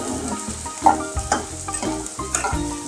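Chopped onions fry in oil while being stirred, giving a close, continuous sizzle with scraping stir sounds and faint tonal background sound underneath.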